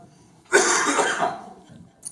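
A preacher gives one long, harsh, raspy cough during a Shabbat sermon, loud and close, fading into faint breathing afterward.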